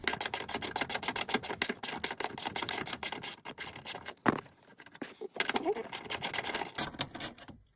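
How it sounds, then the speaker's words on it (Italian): A 12 mm bolt on the battery of a 2020-2024 Toyota Yaris Hybrid is loosened with a ratchet, giving rapid, close metallic clicking and rasping in bursts with brief pauses. "Dovrebbe essere un bullone da 12, esatto. Vado ad allentare il bullone."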